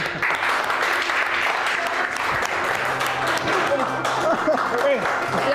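Steady applause from a studio audience, a dense, continuous wash of clapping heard at moderate distance, with voices faintly mixed in underneath.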